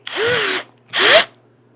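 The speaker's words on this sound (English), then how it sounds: "Now we're just going to drill some holes and drive in some pins." Power drill with a brad point bit boring holes for pins in a custom liquor cabinet build: two close, loud whirring bursts, the motor pitch rising as each one spins up, separated by a short pause over a low steady hum.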